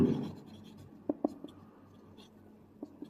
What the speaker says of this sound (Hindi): ये मैं ब्रीफ सा लिख रहा हूँ